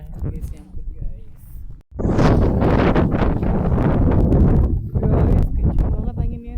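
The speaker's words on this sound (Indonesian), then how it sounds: "Guys, kencang banget anginnya, sumpah." Strong wind buffets the microphone on an evening walk at sunset, a loud, steady roar that starts abruptly and barely eases. Faint voices sit low under it.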